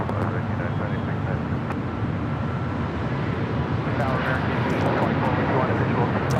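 Steady broadband roar of a JetBlue Airbus A321neo jet airliner at LAX, continuous and moderately loud throughout with no break, along with people talking faintly under it.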